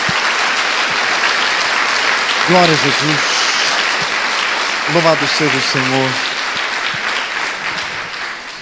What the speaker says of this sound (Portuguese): Dê uma salva de palmas ao nosso Deus.